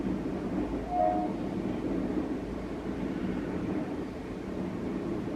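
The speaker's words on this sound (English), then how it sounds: "Yep, it's a train." A train rumbles past steadily, a broad continuous roar of rolling wheels and carriages at moderate distance, with a brief faint tonal squeal early on and no voices.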